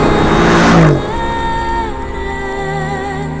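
A Mercedes CLS 63 AMG on the move, a loud engine roar that rises in pitch and then drops off as it changes gear, followed by a steadier tonal drone.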